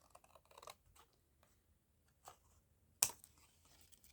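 Scissors snip the folding tabs off thin cardboard product packaging, giving a few faint, sparse cuts close by, with one sharper snip standing out near the end and no talk.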